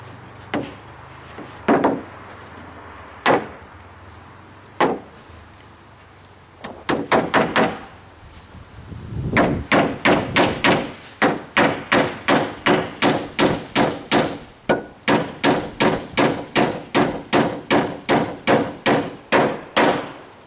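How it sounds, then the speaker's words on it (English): Twist decking nails being hammered into wood for a deck roof build, first a few scattered blows, then a long, steady run of loud, sharp strikes close by, with no talking. "I hate these twist nails, decking nails, they bend so damn easy."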